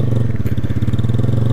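A Honda CG Fan motorcycle's single-cylinder engine runs close by with a steady, rapid pulsing thump, loud and even throughout.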